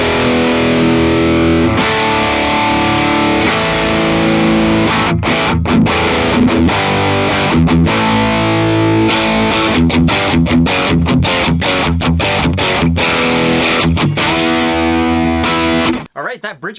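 Loud distorted electric guitar on the bridge pickup of a 2022 ESP LTD Viper SG 1000 with an Evertune bridge, chugging riffs with rhythmic palm-muted stops and sustained chords for about sixteen seconds before cutting off.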